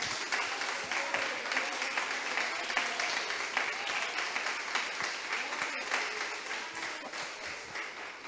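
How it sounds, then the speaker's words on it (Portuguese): Church congregation clapping joyfully for Jesus, a continuous rhythmic patter of many hands at moderate volume, even and unbroken across the whole stretch. "dê uma salva de palmas bem alegre para Jesus"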